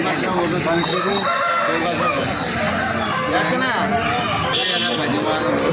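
Roosters crow and cluck amid a dense, loud crowd at the J Mamidada chicken market, a weekly Saturday festival-season fowl sale, with constant chatter and bargaining voices throughout.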